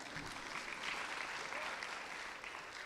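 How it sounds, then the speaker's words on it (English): An audience claps for city employees during a Seattle mayor's budget address, a dense, continuous round of applause filling the room, steady and moderately distant, with no talking over it. "Yeah, you can clap for them."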